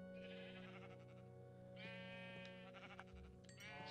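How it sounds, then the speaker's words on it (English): Sheep in the video game Minecraft bleat repeatedly, several wavering calls overlapping against a steady low background hum, with no talking. "Whoa, look at all the sheep."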